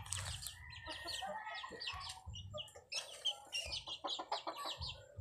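Young chickens feeding together give busy, overlapping clucks and chirps, with quick pecking bursts near the end. The sounds are close but quiet.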